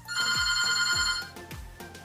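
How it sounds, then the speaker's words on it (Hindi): A mobile phone rings with a bright, repeating electronic tone in short pulses. It plays clearly, with no one speaking over it. "लगता है मेरी कैब आ गई है इसलिए फोन बज रहा है।"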